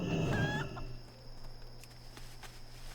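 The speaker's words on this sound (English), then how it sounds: "Chickens, though." Chickens in the World of Warcraft video game cluck and squawk in a brief, clear burst near the start, then a steady low game hum continues alone with no talk.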